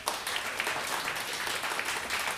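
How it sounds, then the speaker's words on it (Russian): An audience at a jazz quartet concert claps in steady, dense applause throughout, moderately loud and diffuse, with no talk over it. "Спасибо за ваши потрясающие аплодисменты."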